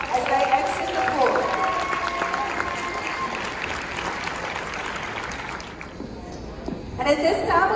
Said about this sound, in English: Please give our boys basketball players and their families another round of applause as they exit the floor.